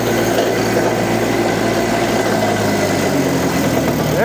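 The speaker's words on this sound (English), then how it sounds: "Lifting and turning and bogging." The engine of an AGT KKTA27 mini skid steer drones loudly and continuously at close range as the machine lifts and bogs down, a dense, steady engine roar throughout.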